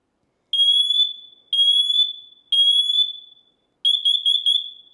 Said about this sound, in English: also has voice alert. So it's going to say fire or carbon monoxide